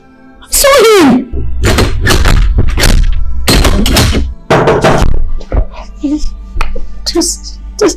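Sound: knocking on a door

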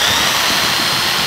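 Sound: power drill running

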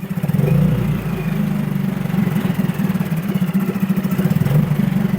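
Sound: Storm 13.5 2T and Suzuki 6HP 4T outboard engines running

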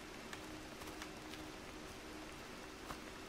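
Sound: rain in video game H1Z1

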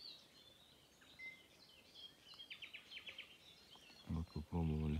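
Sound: birds singing by a reservoir in the morning

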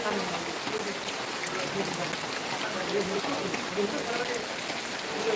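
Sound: rain

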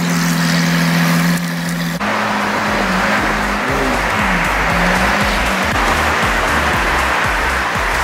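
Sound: Lamborghini Aventador SV engine idling while loaded onto trailer

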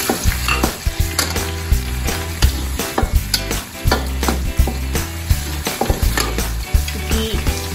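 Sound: stir-frying white parts of green onion in a pan

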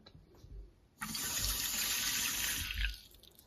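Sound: water being poured into a new frying pan

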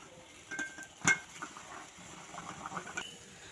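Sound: metal plate set on a bowl over boiling water

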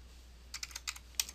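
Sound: typing on computer keyboard

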